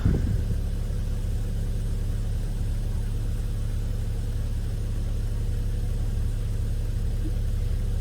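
A 2000 Volvo V40 with an automatic gearbox idles in drive, giving a steady, close, low rumble that holds unchanged from start to finish.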